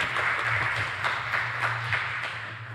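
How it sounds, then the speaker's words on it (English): An audience applauds as the global chairman of CSIRT takes the stage at an evening event: steady, fairly dense clapping at moderate loudness over a low background hum. "Please give him a round of applause."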